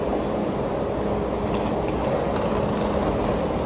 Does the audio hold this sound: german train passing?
yes